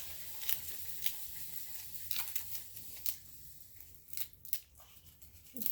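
Dry leaves ripped apart by hand while being added to a homemade nature soup, heard as a series of sharp crackling tears spaced irregularly, close and fairly quiet, with no talking.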